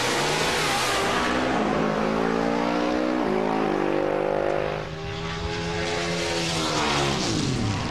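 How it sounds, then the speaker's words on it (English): Harley-Davidson V-Rod drag racing motorcycles launch and accelerate hard at an NHRA Gator Nationals event, loud engines climbing through rising gear-shift pitches with a brief dip midway, no talk over them. "The other riders on those V-Rods, they're much more relaxed as they pull up to the start line, Marty."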